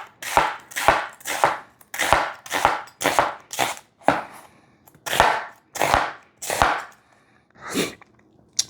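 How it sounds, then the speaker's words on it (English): A knife slices onions that were first halved, in about a dozen crisp, evenly spaced chops that break into short pauses. The cuts are close and clear, with no talking. "and then I'll slice them up"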